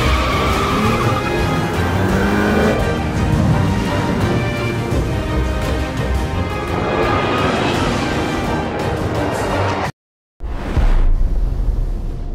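A Kia Optima sedan revving and accelerating hard, a loud continuous engine roar with tire noise that cuts out abruptly near the end before a short burst resumes.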